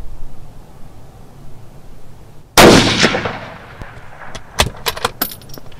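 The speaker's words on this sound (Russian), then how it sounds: "Ну что, я выполню сейчас первый выстрел в" A single loud rifle shot at a target, fired through a GUIDE TU450 thermal scope setup, cracks sharply out of quiet background, followed by a decaying echo and a few faint clicks and knocks.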